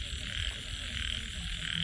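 Ếch kiều frogs croaking at night beside flooded fields, a dense steady chorus of overlapping calls with insect-like high buzzing, continuous and moderately loud with no talking.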